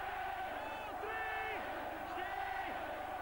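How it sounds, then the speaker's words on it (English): A rugby league crowd at a Widnes versus St Helens match roars and chants in the distance, a faint continuous swell with rising shouts, under a commentator's voice. "Listen to this crowd."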